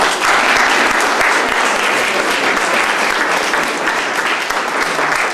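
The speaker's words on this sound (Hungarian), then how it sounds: "Úgyhogy azt hiszem, hogy egy nagy tapsunk." Steady, dense applause from a large audience at a fortieth-anniversary celebration of a community cultural house, loud and continuous for the whole stretch, with no voices rising above it.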